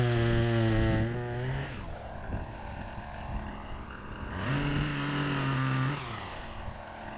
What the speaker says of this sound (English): Let's look at the power of that chainsaw again.